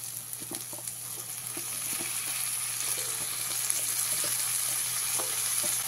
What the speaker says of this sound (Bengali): এবারে এর মধ্যে দিয়ে দেবো কেটে রাখা লাউ ডাঁটা এবং শাকটা